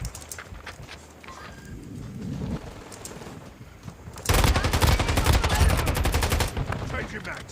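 Heavy rapid gunfire in Call of Duty: Warzone played on a phone, a loud continuous burst of closely spaced shots lasting about two seconds after a stretch of quieter game ambience and distant firing.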